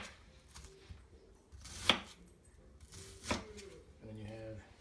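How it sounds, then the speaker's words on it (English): A knife dices an onion on a cutting board for mirepoix, with a couple of sharp, distinct chops spaced apart amid quiet kitchen handling, and a voice briefly heard near the end. "And then you have your diced onion."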